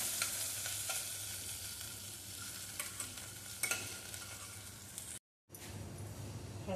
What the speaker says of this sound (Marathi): छान मिसळून घेऊया याला